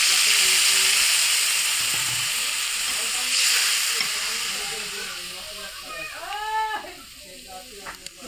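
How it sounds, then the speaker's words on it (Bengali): Onion fries in oil in a wok with a loud, steady hissing sizzle that slowly eases off. A short voice-like sound rises near the end. "কড়াইতে পেঁয়াজটা ভেজে নিয়ে আসছি।"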